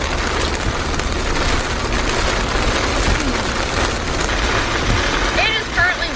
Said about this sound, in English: It is currently raining. It's currently a downpour.